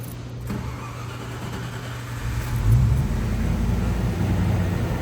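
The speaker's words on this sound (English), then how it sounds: "I'll give it a quick start. This is not a cold start." A 1994 Land Rover Defender 90, not started from cold, cranks and fires up; a low engine rumble builds after about two seconds and then settles into a steady idle, close and fairly loud.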